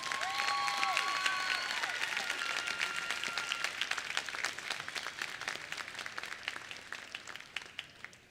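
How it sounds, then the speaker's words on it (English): Crowd applause for the 2021 basketball homecoming court at a sports center, sustained clapping from a large indoor audience that gradually thins and fades, with a few faint tones over it early on. "please give the 2021 basketball homecoming court a round of applause."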